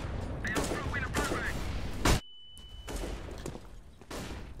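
Gunfire in Counter-Strike: Global Offensive, with a few sharp loud shots amid steady game noise and a brief drop to near silence after one report.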